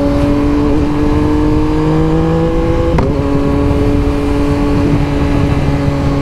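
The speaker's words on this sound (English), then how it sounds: "Soon as I put an exhaust on my bike, everybody hears me." Steady engine drone of a 2024 Yamaha MT-09 motorcycle with an aftermarket exhaust, heard from the rider's seat while cruising in traffic, with wind noise throughout and no speech.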